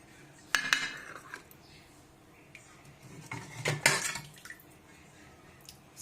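Kaddu gosht served from a pot with a metal spoon: two bursts of clattering and scraping, one short near the start and a longer one midway, separated by quiet.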